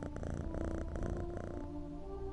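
A pet cat in the video game Echoes of the Fey purrs in a steady, rumbling rhythm, close and soft, with no voices over it.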